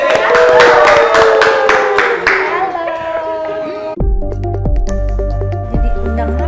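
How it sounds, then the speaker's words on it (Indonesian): An audience at a television show applauds a guest invited to the stage, producing a dense burst of clapping that tails off and gives way to loud music with a heavy beat. "Kita beri tepuk tangan yuk Mimi Kade."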